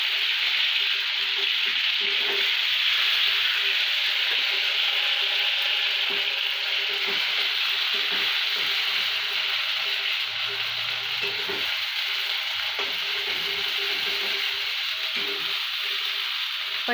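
Masala paste sizzles steadily in hot oil for a gravy, a dense continuous crackling hiss at close range with faint scraping now and then and no talk.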